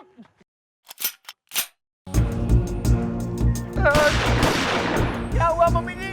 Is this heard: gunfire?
yes